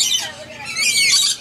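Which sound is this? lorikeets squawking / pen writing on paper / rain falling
lorikeets squawking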